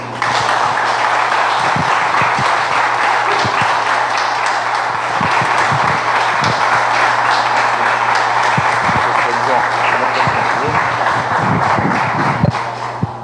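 Church congregation clapping steadily through a worship service, a dense continuous wash of hand claps with some louder individual claps and voices mixed in, fairly close and loud throughout.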